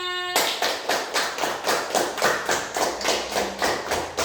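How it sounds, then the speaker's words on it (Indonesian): An elementary school class claps in a regular, rhythmic beat for a group that has just presented, about a dozen evenly spaced claps ringing out close and clear after a short tone. "Beri tepuk tangan semuanya."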